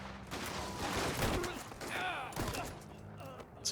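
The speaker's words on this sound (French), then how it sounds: "On dirait un fusil à pompe mais qui a plus de balles." Dense bursts of gunfire from a pump-action-style gun in the game Mafia: The Old Country, loud and close, crackling through a busy mix with a voice talking over part of it.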